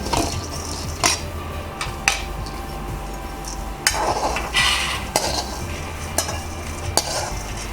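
Dal being dry-roasted in a pan and stirred with a utensil, giving a steady gritty scraping rustle broken by sharp clinks of metal against the pan at irregular intervals, close and alone with no talking.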